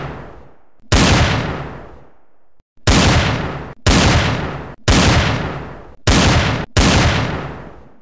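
Golden Duke nuclear pistol firing in Battle Talent VR: six loud, booming blasts, each a sharp burst with a long fading tail, spaced roughly a second apart after a short pause.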